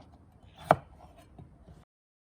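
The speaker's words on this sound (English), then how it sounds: "now I'm going to chop my potatoes and artichokes up" A kitchen knife chops potatoes and artichokes on a cutting board for a vegetable frittata: one sharp, loud chop stands out, followed by a couple of fainter knocks against the board before the sound cuts to silence.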